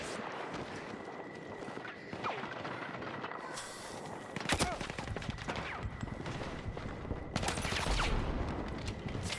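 Scattered gunfire in the video game Battlefield 6, with several sharp shots and bursts mixed into a dense, noisy game soundscape and occasional voices.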